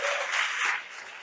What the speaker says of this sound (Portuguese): Você pode dar um aplauso ao Senhor por essa palavra?